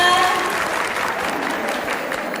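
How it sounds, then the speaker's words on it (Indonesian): Audience applause fills the hall at the close of an emcee's presentation, a dense steady clapping that is loud at the start and holds through to the end, with no talk over it. "Beri tepuk tangannya buat kalian semua."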